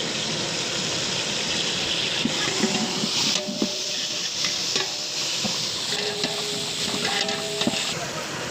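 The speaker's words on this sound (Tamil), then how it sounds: "ஜீரகம், வெங்காயம் போட்டுடலாம். பூண்டு போட்டுடலாம்." Cumin, garlic and onion frying in oil in a large pot for a hundred-person meal, giving a steady sizzling hiss with stirring scrapes throughout, fairly close.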